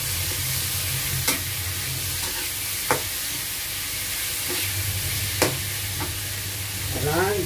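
Shrimp sautéing in a pan, with a constant low sizzle and occasional sharp scrapes and taps from a utensil stirring the pan.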